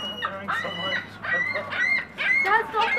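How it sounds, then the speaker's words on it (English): Seagulls and ducks call noisily while being fed bread in Ontario, Canada, overlapping squawks and honks close by, mixed with people talking. "The seagulls are coming."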